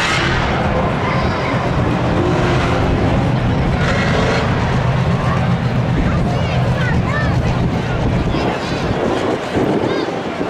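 Camaro and Firebird drag racing at Seekonk Speedway spectator drags, a loud continuous engine roar filling the track, with wind buffeting and a commentator talking over it throughout.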